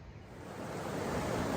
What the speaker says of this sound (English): we're back to the river crossing